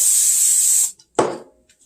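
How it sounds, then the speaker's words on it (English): A close, loud hiss from an aerosol non-stick cooking spray can lasting almost a second, sprayed onto hands, followed after a pause by a short, softer rustle. "I always spray my hands first with my non-cooking spray"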